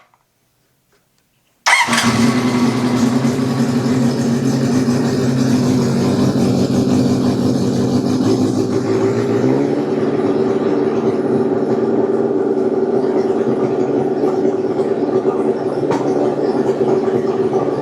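A Honda CB750 motorcycle engine fires up after near silence and settles into a loud, steady idle that stays close and constant and drops slightly in pitch midway, with no talking.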